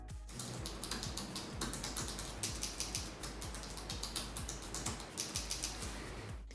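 Rapid clicky typing on an ASUS ROG Zephyrus S17 laptop keyboard, key presses clattering in quick irregular bursts, close and fairly loud, with no voices.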